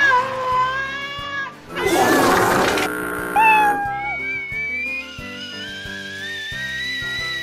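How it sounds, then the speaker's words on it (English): A house cat meows in a series of drawn-out, whistle-like cries close by, with a loud burst of noisy scuffling in the middle and music-like tonal sounds throughout. "Oh look, it's the cat that shits himself."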